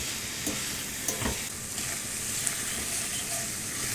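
Ground chuck, 80-20 ground beef for hamburger gravy, sizzles in a pan while a fork breaks it up. A soft continuous fry runs throughout with occasional scraping knocks from the stirring.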